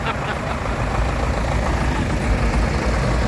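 Classic tractor engine idling at an outdoor vintage tractor show, a steady low, rumbling drone that stays even and fairly close throughout, with no speech.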